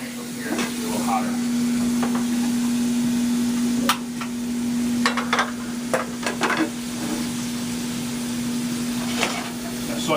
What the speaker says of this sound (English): Saute these up.